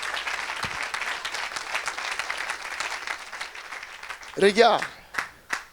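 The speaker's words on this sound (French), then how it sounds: "Somebody clap your hand for the Lord." A church congregation at a Saturday worship service claps hands for the Lord in sustained, steady applause, with a preacher's voice cutting in toward the end.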